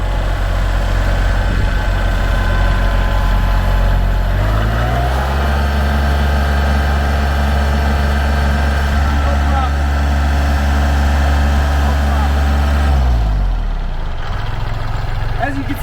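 A compact tractor idles under load while lifting a full tote of ash on rotating pallet forks, a loud, steady low engine drone that shifts pitch partway through as hydraulics engage, then eases off near the end.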